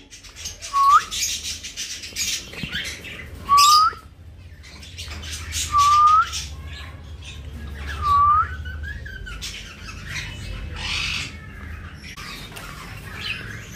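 Pet budgerigar whistling in short rising notes, repeated about four times amid chirps and rough squawks, close and fairly loud with other birds chattering in the background.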